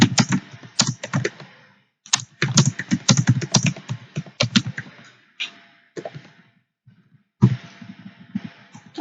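Code being typed on a computer keyboard, close rapid clusters of key clacks in bursts separated by short pauses, heard alone without talk.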